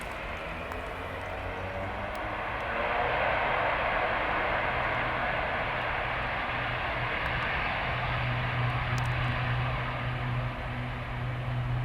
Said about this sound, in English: Air Serbia 6 to Tango, runway 12 right, clear for takeoff, wind 150 degrees, 6 knots.